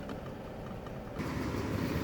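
A van's engine rumbling as it pulls away, low and steady, growing louder and fuller partway through as it drives off, with no talk.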